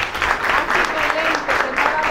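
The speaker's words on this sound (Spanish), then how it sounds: "le pido un gran aplauso" Applause from an audience at a breast cancer awareness campaign walk event, steady dense clapping at moderate loudness with some crowd voices mixed in throughout.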